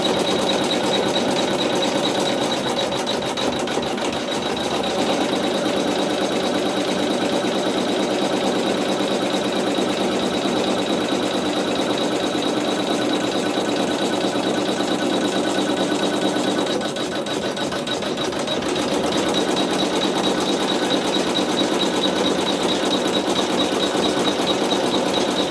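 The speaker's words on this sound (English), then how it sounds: "hold it in place until it gets that edge stitched" A sewing machine stitches the edge of wool scallops with a steady, close, continuous mechanical whirr and rapid needle chatter, barely pausing for its whole length, with no talk.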